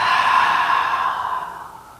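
A long, steady exhale blown out through the mouth during a breathing exercise while the perineum and abdomen are tightened, a single breathy push lasting about two seconds and fading at the end.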